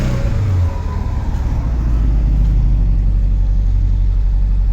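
A cold 2004 Subaru Impreza, unstarted for about a month and running rough, gives a loud, steady, close exhaust drone with a brief rev swell near the start.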